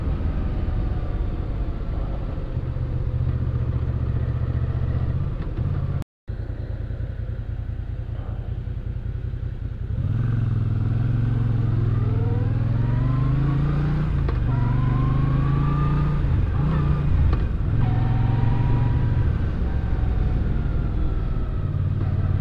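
A Moto Guzzi V9 Roamer motorcycle accelerates from a stop, its loud, close engine rumbling steadily, then revving up through rising pitch sweeps with gear changes, with wind noise throughout.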